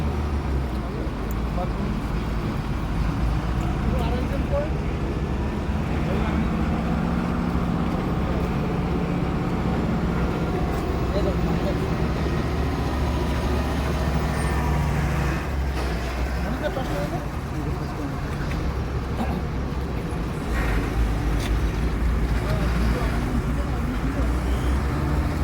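A steady roadside roar of cars arriving one after another at a police checkpoint in Asansol, with engines rumbling close and continuously and no clear gaps between vehicles.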